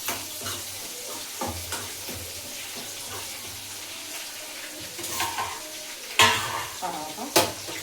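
Curry leaves frying and being stirred in a pan at home, sizzling steadily with repeated clatters and scrapes of the spoon against the pan, some louder knocks near the end.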